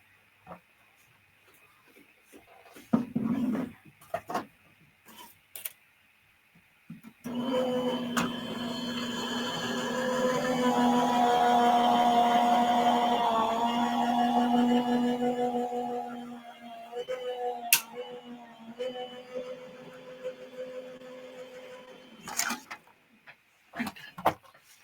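An electric die-cutting machine runs for about ten seconds, a steady motorized whir and hum as it rolls egg shapes out of cardstock for a 5x7 Easter card, framed by handling clicks and rustles before and after.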